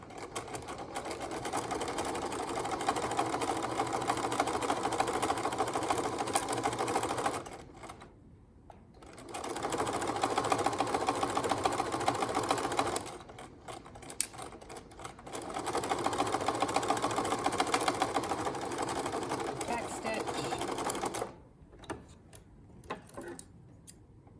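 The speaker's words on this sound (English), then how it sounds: "back stitching at both ends." A sewing machine back stitches French seams in three long, steady runs of rapid mechanical ticking, separated by short pauses with quiet handling noise.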